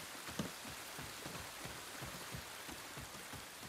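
Steady rain falls in the video game Ghost of Tsushima, a dense, even patter of raindrops on surfaces that continues without a break. No one speaks.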